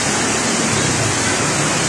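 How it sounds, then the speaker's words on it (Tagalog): Strong floodwater current rushes through a flooded street after heavy rain, a loud, dense, continuous roar of churning water close by. "Malakas yung current ng tubig, oh."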